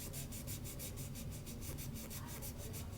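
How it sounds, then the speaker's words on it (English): An emery board sands a decoupage car coaster in quick, even back-and-forth strokes, a soft rhythmic scratching that repeats steadily and stays close and quiet. "I've just been using an emery board just to smooth this out."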